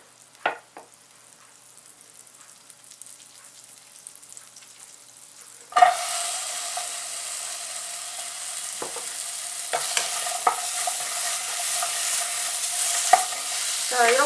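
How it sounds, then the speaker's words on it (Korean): Onions stir-fried in a thin coating of oil: a few quiet clicks, then a sudden loud sizzle as the pan heats and hisses steadily, with occasional stirring scrapes, close and continuous. "양파를 볶아줍니다"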